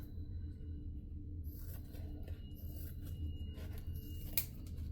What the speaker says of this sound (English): I'm gonna have to cut all the way around